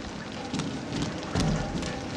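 Rain falls steadily in the horror video game Outlast Whistleblower, a soft continuous patter with a few slightly louder gusts or splashes, heard alone without talk.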